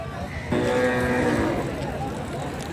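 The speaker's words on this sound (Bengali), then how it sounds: "অসংখ্য লাল টকটকে কালারের সুন্দর সুন্দর ষাঁড় গরুগুলি" A Sahiwal bull gives one loud, drawn-out moo at a busy cattle market near the border, with crowd chatter in the background.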